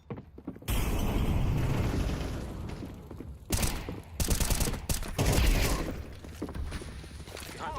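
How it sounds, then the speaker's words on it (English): Flashbang and fire grenade in a video game, a sharp bang followed by a sustained crackling roar of burning and shattering bursts with scattered impacts. "Flashbang. Throwing fire."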